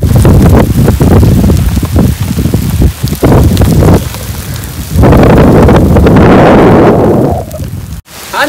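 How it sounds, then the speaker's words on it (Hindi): Steady heavy rain pours down, a dense broadband hiss of drops hammering a surface, loud and continuous with a brief sharp break near the end. "बारिश जो है ना वो भी आप देखना तेज़ हो चुकी है"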